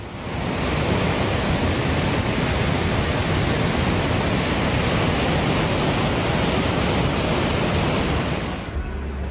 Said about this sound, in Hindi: नदी नालों में उफान आया हुआ है।